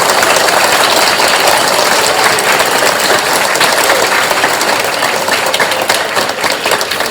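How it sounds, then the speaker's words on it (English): Sustained applause from a school assembly audience at a staff awards event, a dense, steady wash of clapping that stays loud and even throughout with no voices standing out. "One more round of applause, boys and girls, ladies and gentlemen."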